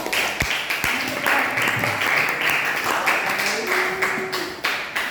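A classroom of students applauds, a dense, steady clapping that lasts throughout with a few louder individual claps and some voices mixed in.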